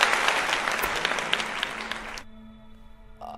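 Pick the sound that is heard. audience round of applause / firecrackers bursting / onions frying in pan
audience round of applause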